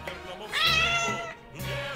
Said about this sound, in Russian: Вот настоящий живой кот.